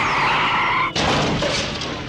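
A truck in the film Heartbeeps skids with a sustained tire screech, cut off abruptly by a loud crashing impact, then a rough, noisy aftermath that slowly fades.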